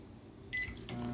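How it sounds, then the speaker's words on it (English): An Alexa-controlled microwave oven starts a 30-second run with a short electronic beep, then a steady low hum settles in. Quiet and close, with no talking. "Alexa, microwave for 30 seconds."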